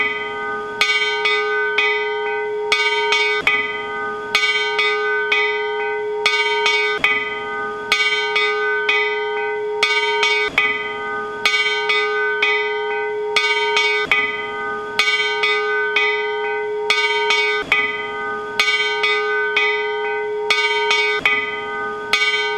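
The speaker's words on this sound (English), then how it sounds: "a bell famous for ringing in some of the most important meetings of machinists anywhere in the world" A 100-year-old machinists' union bell rings in loud, evenly spaced strokes, each with a bright metallic attack and a long ringing hum that carries on through the next strike, repeating steadily with no talk.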